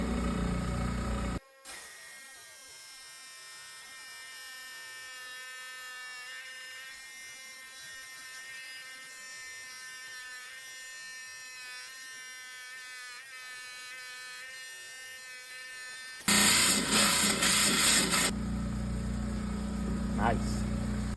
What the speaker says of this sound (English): For that we'll be using the high-tech 10-inch saw.